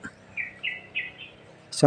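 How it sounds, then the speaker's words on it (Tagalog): A few soft, short pigeon calls in quick succession, fairly close, with a brief louder burst at the end. "Ibon. Kalapati."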